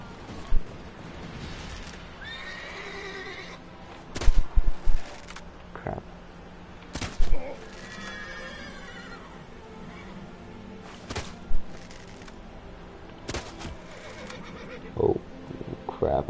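Horse neighing and hoof clatter in The Witcher 3 video game, with whinnies and brief bursts among game effects and noise, heard alongside talk.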